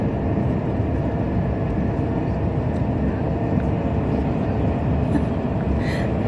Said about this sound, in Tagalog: Grabe yung takbo ng train, no? Ang bilis.